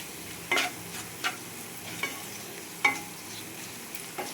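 Salt and sugar being stirred into vegetables in a frying pan for semolina pulao, a faint steady sizzle broken by about six distinct spatula scrapes and taps at irregular intervals.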